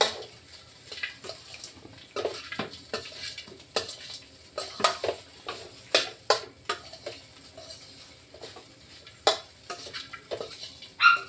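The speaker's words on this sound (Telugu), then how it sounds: "మంచిగా మిక్స్ చేసేసుకోవాలి" A carrot mixture with coriander seeds being stirred in a pan, the spoon clinking and scraping against it in irregular bursts over a faint low sizzle, with no talking.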